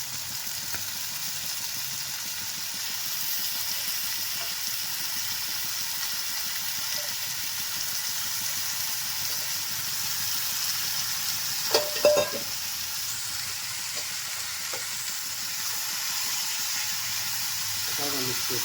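Sliced mushrooms fry in a pan with a steady, moderate sizzle and hiss throughout, broken by a few brief stirring clatters near the middle.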